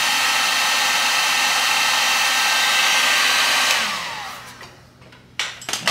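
A heat gun warms a Corvette C6 headlight to soften the lens glue, blowing a loud, steady whooshing whine for almost four seconds. It then cuts off and winds down, and a few clicks and knocks follow.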